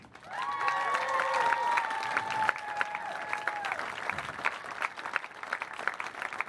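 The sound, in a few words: audience applause for the two finalists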